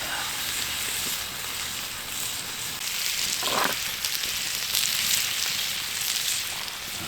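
Eggs fry on an antique Wagner Ware cast iron griddle, a steady, close hiss of sizzling fat with small crackles and pops that swell slightly midway, heard alone.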